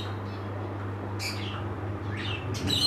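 Pigeons kept at a home, with a newly hatched chick, give a couple of short, high squeaking chirps over a low steady hum, faint and close.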